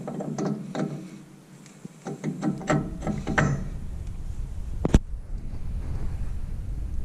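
A wheel spacer is slid and fitted onto car wheel studs, giving a series of close metallic clicks, scrapes and clanks with one sharp knock, over wind noise outdoors.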